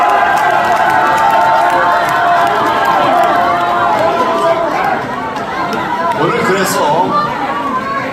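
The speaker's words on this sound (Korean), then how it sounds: "내가 강하게 싸우겠다 하는 분들 한번 환호 불러주시기 바랍니다" Crowd at a political party leadership rally cheering and shouting loudly, a dense roar of many voices that stays strong, dips slightly partway through, then swells again.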